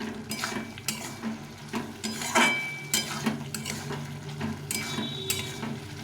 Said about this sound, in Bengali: এক চামচ মতো কাশ্মীরি লঙ্কা গুঁড়ো এর মধ্যে দিয়ে দিল দিয়ে এটাকে ভালো করে কষিয়ে নিতে হবে